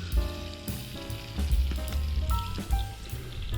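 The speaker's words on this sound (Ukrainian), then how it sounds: "і обсмажуємо наші ковбаски" Sausages fry in oil on a saj, giving a steady close sizzle with crackling pops over a low rumble and some faint tonal music underneath.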